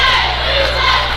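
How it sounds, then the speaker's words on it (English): A Farmington crowd at a Class 4 District 2 championship basketball game yells at the referees, a loud, dense roar of many voices filling the whole moment. "As the Farmington crowd yells at the referees, you gotta love it."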